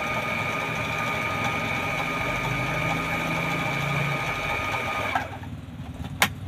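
A Brother sewing machine stitching and automatically trimming a fabric edge, running with a steady, even mechanical whir for about five seconds before stopping, followed by a single sharp click in the quiet afterward.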